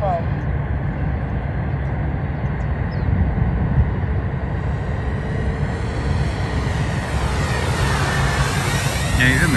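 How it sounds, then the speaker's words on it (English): A large HSD T-33 120mm model jet makes a low pass, its turbine a continuous loud roar and whine that holds steady, then swells with a rising pitch as the jet sweeps close overhead. "I'm coming in for a low pass."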